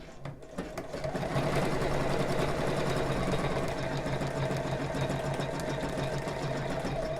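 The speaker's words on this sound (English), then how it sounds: "I'm just going to stitch along, and I'm going to stitch along to the center point there." Close sewing machine steadily stitching bra fabric pieces, a continuous whirring run lasting several seconds without pause.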